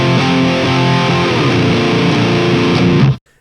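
A dense, distorted electric guitar through a JCM 800 amp simulator plays a steady chugging rhythm with a dark, muffled tone, then stops abruptly.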